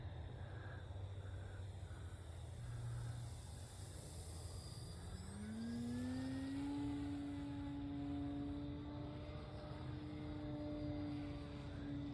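An E-flite Slow Ultra Stick RC airplane flies low on steady throttle, its electric motor buzzing faintly at first, then rising in pitch into a clear, sustained whine as it passes close and holds speed.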